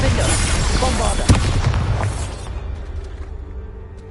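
Spell explosions from the Confringo and Bombarda curses in the Hogwarts Legacy video game: a loud, close roaring blast with a sharp crack partway through, then a rumbling tail that dulls and fades over the last seconds.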